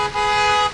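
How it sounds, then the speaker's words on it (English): A single car horn from a supportive passing motorist at a street protest blares steadily for most of a second, loud and close, over a faint background hum. "Chants and the honks of supportive motorists fill the air."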